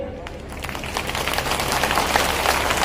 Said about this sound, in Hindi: ये तालियां भी जोर से नहीं बजी।